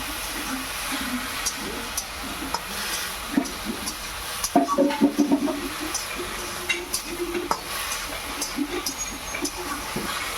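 Mixed vegetables for a village-style chapila fish chorchori stirred in a pan with salt and turmeric, a steady hiss with scraping spoon strokes and scattered clinks, moderately close, no talk.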